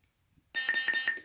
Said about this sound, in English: press it, hold it, and then you'll hear 3 consecutive beeps